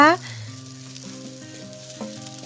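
Tomatoes sizzling in a pan with turmeric and coriander powder, a quiet crackling fry beneath faint tonal background hum, with a brief louder burst at the start and scattered small pops after.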